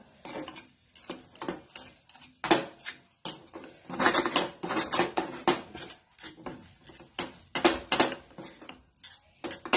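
A spoon stirs and mixes pea stuffing for matar puri in a metal pan, giving repeated close scraping and clinking strokes in an irregular rhythm, with no voices.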